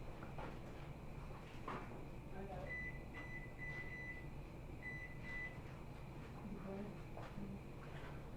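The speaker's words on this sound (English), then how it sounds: "We're going to start a 10-minute timer" A digital kitchen timer is set for spaghetti cooking: a few short, thin beeps spaced over several seconds, fairly faint under steady kitchen hum and soft background voices.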